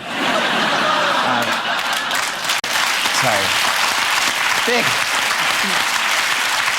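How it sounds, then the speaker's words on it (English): A studio audience claps in loud, sustained applause that fills the whole span, with a few chuckles and a voice briefly heard under the clapping. "Big round of applause for those guys"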